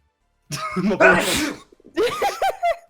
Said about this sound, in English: I think it was a sneeze.